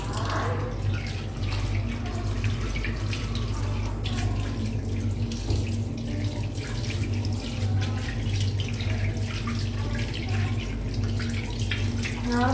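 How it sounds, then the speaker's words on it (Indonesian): Running tap water rinses soap off skin in a continuous, fairly loud gush splashing into a sink, steady throughout with small drips and splashes and no talking. "Udah, sekarang kita bilas coba."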